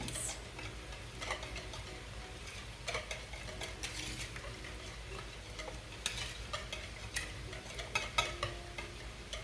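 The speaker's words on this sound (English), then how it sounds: "now we're gonna go ahead and whisk this a little more" A squash casserole mixture is whisked in a bowl, giving steady scraping stir strokes at close range with sharper clicks of the whisk against the side, over a faint background bubbling.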